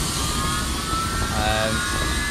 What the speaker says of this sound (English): That's the engine start sound that I keep getting on loop, exterior view.